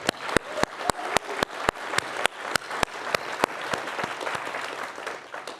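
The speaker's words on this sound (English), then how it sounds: "Let's give them all another round of applause." Audience applause at a Lens Fest 2025 keynote, a steady wash of many hands clapping with sharp periodic accents, continuous and moderately distant for several seconds, no talk over it.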